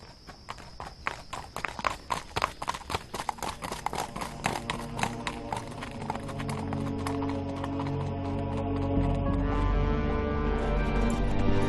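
Steady clip-clop of horse hooves at a walking pace in the video game Yesterday Origins, close and distinct, gradually blending into a swelling musical backdrop.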